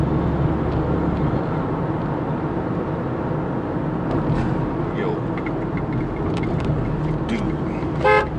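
A car horn toots briefly near the end over steady road and engine noise from inside a moving vehicle.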